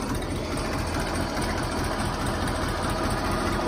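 A tractor engine idling steadily and close by, a dense, continuous low rumble with a fine mechanical vibration and no change in pace throughout.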